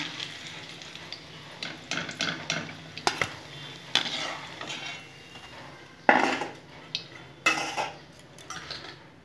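Food frying in a pan over a lowered gas flame during home cooking, with intermittent stirring and utensil scrapes against the pan over a steady low sizzle, close by and moderately quiet.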